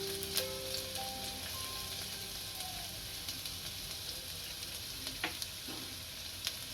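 Ginger fried in hot oil at the stove for tomato soup gives a continuous close sizzle, with occasional light clinks and a few sharp pops rising above the hiss. No one speaks.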